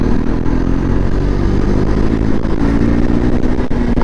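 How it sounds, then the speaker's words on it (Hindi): A KTM RC 390 motorcycle engine runs loud and close during a drag race on an evening ride, a steady, rough mechanical drone with a faint clatter and no break. "RC 390 ड्रैग रेस हो रहा है इधर पे।"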